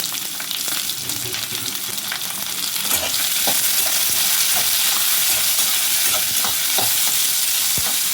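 Onions, green chillies and tomatoes sauté in a large pan with a loud, steady, close-up sizzle that holds throughout, dotted with small crackles.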